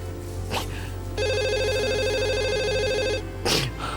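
Telephone ringback tone sounds over a quiet room in an Indonesian television program, one steady electronic ring lasting about two seconds, with brief rustling before and after it.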